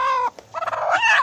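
A hen sitting on a nest of eggs gives a few short, close clucking calls, with a brief gap in the middle and no talking.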